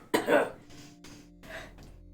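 A person coughs, one sharp loud cough followed by a couple of softer throat-clearing coughs, close to the microphone over a low background hum.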